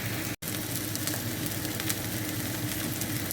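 Breakfast frying in a single pan over a gas flame, giving a steady, close sizzle with crackle that runs continuously apart from one very brief dropout near the start.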